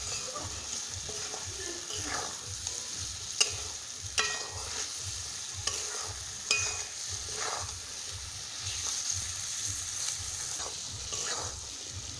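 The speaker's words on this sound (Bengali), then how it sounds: "এবার সব কিছু ভেজে ভালো মতো কষিয়ে নেব।" Spices, turmeric and salt fry in a pan for a Bengali cabbage and potato dish, a steady close sizzle broken by repeated scraping stirs and sharp clinks of a utensil against the pan, with no talk.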